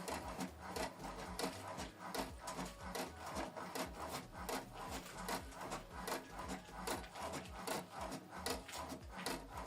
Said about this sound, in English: So it's printing out the document.